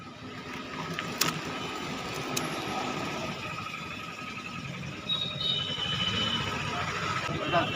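Vehicles pass by a roadside parotta eatery with a steady, moderately loud traffic rumble, a couple of sharp metallic clanks, and people talking in the background.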